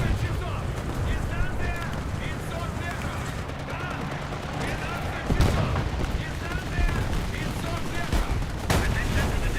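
Machine gun fire in the tank game War Thunder, dense rattling bursts and impacts mixed with engine rumble and battle noise, partly masked by a speaking voice.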